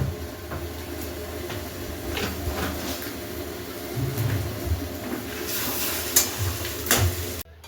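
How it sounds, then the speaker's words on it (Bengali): Sugar being stirred into a Bengali egg and bottle gourd curry, with a steady low simmer and sizzle under soft, intermittent scraping of a spoon against the pan, alone without voices. "আমি পরিমাণ মতো এর মধ্যে এখন চিনি দিয়ে আর একটু ভালোভাবে মিশিয়ে নেব"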